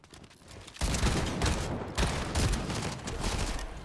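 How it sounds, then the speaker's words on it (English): Rapid bursts of auto shotgun fire in the Fortnite video game, dense repeated blasts packed closely together for several seconds, loud and close with no talk over them. "Oh, it's an auto shotgun spammer."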